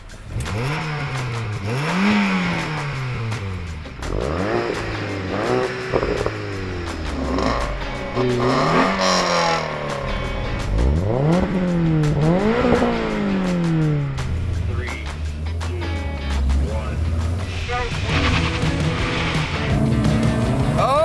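Several cars launching hard off the line in a drag race including a Golf GTI and a Toyota GR86, engines revving high and shifting through gears in repeated rising sweeps, loud and close, with a deep engine drone toward the end.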